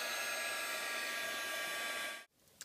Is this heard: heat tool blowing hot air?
yes